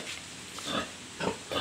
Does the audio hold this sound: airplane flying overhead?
no